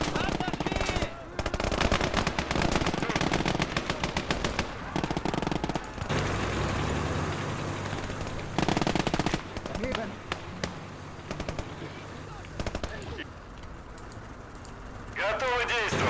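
Machine gun fire in the war strategy game The Southern Front, rapid loud bursts of automatic fire and scattered shots through most of the stretch, mixed with battle noise, with a player talking over parts of it.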